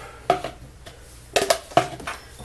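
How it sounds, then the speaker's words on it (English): Fork or spoon clacking against a bowl while a dozen egg yolks are mashed for deviled eggs, three or four sharp close knocks with softer scraping between. "I'm going to try to basically break up every piece of yolk that I can"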